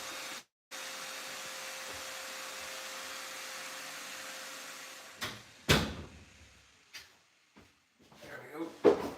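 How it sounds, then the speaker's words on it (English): A household door is shut to muffle a noisy robot vacuum. A steady whir runs first, then fades, followed by a few sharp knocks and thuds from the door and handling. "One second, just need to go and close the door here."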